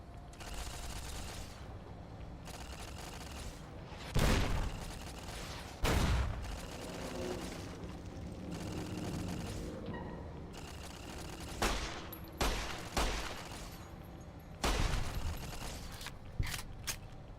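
Repeated gunfire in Fallout New Vegas, loud bursts of shots and heavy single blasts scattered over a steady background of game noise, with mechanical clicks between volleys and no one talking.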